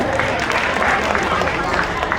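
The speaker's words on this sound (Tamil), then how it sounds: "கைத்தட்டி கொடுங்க இந்த பிள்ளைகளுக்காக." An audience applauds steadily for children at a church Vacation Bible School program at ECI Zion Church, Prakash Nagar, a dense continuous patter of clapping with a faint crowd murmur underneath.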